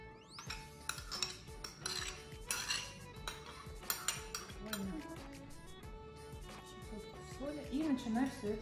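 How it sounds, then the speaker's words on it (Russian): Melted butter and sour cream being stirred together in a bowl while cooking a national dish, with repeated clinks and scrapes of a utensil against the dish. People talk faintly in the background. "И начинаем все это замешивать."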